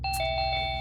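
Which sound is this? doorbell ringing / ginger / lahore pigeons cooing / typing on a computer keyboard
doorbell ringing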